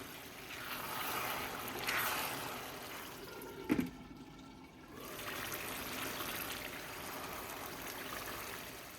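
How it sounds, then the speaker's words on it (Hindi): Water is poured into minced meat cooking in a pan for a bell pepper keema, a steady soft trickling rush that briefly pauses with a small knock, then resumes. "कीमे को पकने के लिए पानी डाल लेते हैं।"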